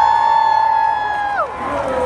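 A concert crowd cheers and shouts at a show at Starboy Fest 2019, a loud, sustained roar of many voices with a tonal sweep dropping partway through.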